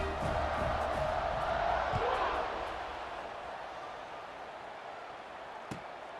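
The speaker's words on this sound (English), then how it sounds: "this crowd is feeling themselves after that last drive" A stadium crowd roars in EA Sports College Football 26 as the kickoff unit returns after a 75-yard drive, the cheering loud and broad at first, then easing into a steady background murmur.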